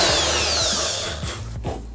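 A power drill whines loudly up close, its pitch sliding as it bites into a van wall strut, then winds down with a few rattling knocks.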